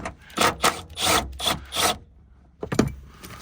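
Interior trim being pried off an Acura RSX, a run of close, rough scraping and rubbing strokes of plastic, then a short pause and a final creak and clunk.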